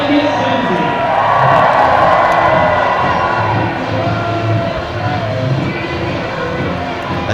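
A home crowd at a university rugby match between Bath and Leeds Beckett roars and cheers loudly in a sustained wave of shouting, with voices mixed into the din.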